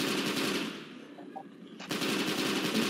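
Gunfire in the zombie shooter game Left 4 Dead 2, rapid automatic bursts rattling loudly, breaking off briefly near the middle and resuming at full strength at the end.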